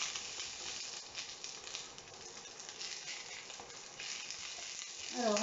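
Green asparagus frying in a pan, a soft continuous crackle and sizzle that swells slightly toward the end, quiet and close, with no one speaking.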